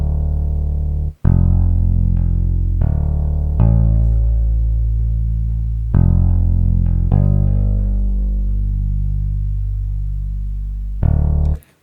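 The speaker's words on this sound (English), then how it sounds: "electric bass, aggressive fretless" An aggressive fretless electric bass patch in Logic Pro plays deep, sustained notes that swell and slide, each struck firmly and left ringing into the next, with a dark, gritty low tone.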